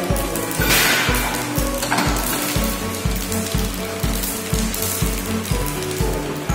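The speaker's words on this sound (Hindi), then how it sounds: "इसे गर्म करने के बाद तड़का लगाएंगे हम इसमें तड़के लगाने के लिए डालेंगे मास्टर सीड और आधा टी स्पून जीरा" Mustard seeds and cumin sizzle and crackle in hot oil for a tadka, a dense frying hiss over a repeating low thumping rhythm, with sharper spits flaring near the start and again later.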